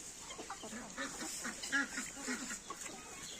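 Chickens in a farmyard, among them Marans and Legbar hens, cluck and murmur in a busy morning chorus, close and continuous, with some duck-like calls mixed in and no talking.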